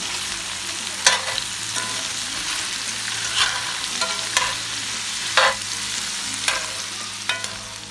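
Sausage frying in a pan as cooking fat for a lemon garlic chicken dish gives a steady, dense sizzle, broken by sharp spatula scrapes and stirring clicks every second or so, close and moderately loud with no voices.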